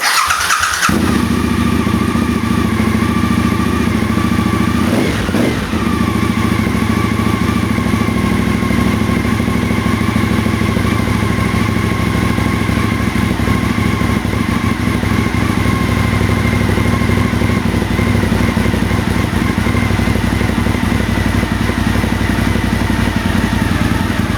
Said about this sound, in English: we're going to have to warm it up a bit. So it's going to let it idle for a few minutes